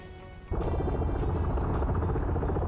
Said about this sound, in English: the helicopter's just trying to get aerial recon of what's going on here